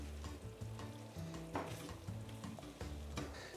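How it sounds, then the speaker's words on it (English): A creamy sauce with frozen peas, fresh parsley and mint is given a quick stir in a pan, making a faint scraping and soft sizzling under steady background music. "Give this a quick stir."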